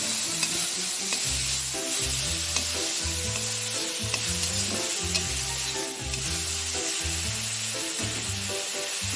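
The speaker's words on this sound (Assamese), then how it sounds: "হাঁচৰ টেঙাখিনি ভালকৈ লৰাই দিব" Sour duck tenga curry sizzles loudly in a hot kadai while a spoon stirs it in steady, repeated scraping strokes, with continuous frying hiss throughout and no voices.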